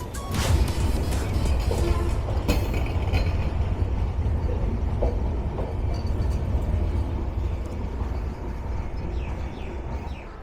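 Trains at Ibrahimabad railway junction, heard as a continuous loud, close rumble and rolling roar with scattered clanks and screeches across the whole stretch.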